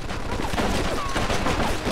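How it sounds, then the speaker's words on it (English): Sustained machine gun fire in a Mafia 2 battle set in Sicily, July 1943, a dense continuous burst of rapid shots running loud for the whole stretch with no pauses. "Looks like we found the machine gun."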